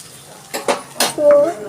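A lid set onto a cooking pan on the stove, giving a few quick metallic clinks and a brief ringing clatter, close by, with a voice speaking just after.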